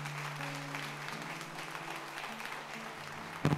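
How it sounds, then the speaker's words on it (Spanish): A church congregation clapping in praise, a continuous moderate wash of hands through the short stretch, with sustained organ or keyboard tones underneath. "Da un aplauso al Señor."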